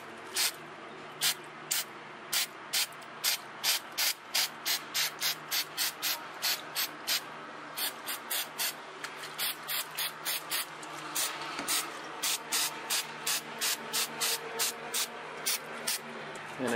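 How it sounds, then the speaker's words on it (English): Parts cleaner sprayed onto a Briggs & Stratton small-engine carburetor in short, rapid bursts of hissing spray, repeated steadily throughout, close and fairly loud. "Get some parts cleaner. Parts cleaner and just spritz to loosen up."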